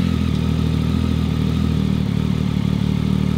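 A Triumph Tiger 800 motorcycle fitted with a de-catted Lextek VP1 aftermarket full exhaust, running at a loud, close, steady idle with a deep even throb and no talking.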